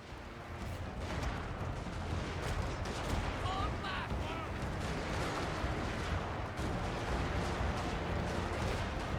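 Musket or rifle units in a Total War battle fire while on the move, producing a dense, continuous crackle of volleys and booms with a voice faintly underneath.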